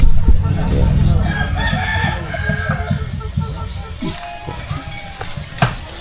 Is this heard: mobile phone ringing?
no